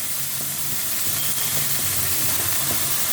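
Mustard seeds, urad dal and dried red chillies sizzle and crackle steadily in hot oil, a continuous close hiss with faint popping and no talk.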